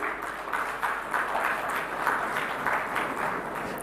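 Sustained audience applause in a large hall at India Maritime Week 2025 in Mumbai, many hands clapping steadily and densely at full volume with no speech over it.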